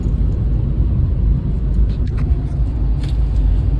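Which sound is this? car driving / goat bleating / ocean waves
car driving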